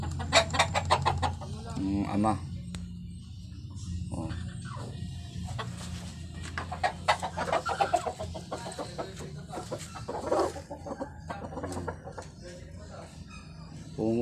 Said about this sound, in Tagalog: Ito yung tandang.